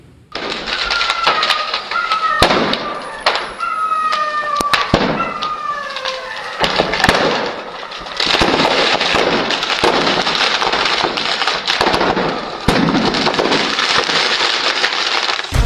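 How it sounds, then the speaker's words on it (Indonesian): Bursts of sharp celebratory gunfire fired into the air to mark a ceasefire crack out in rapid irregular volleys, loud and echoing, mixed with crowd noise and a few whistling tones. "Sebagai perayaan gencatan senjata, tembakan dilepaskan ke udara."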